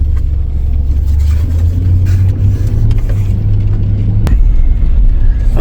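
A Ford Mustang accelerating around school traffic gives a steady, loud, close engine rumble with a deep drone that builds and then drops off near the end.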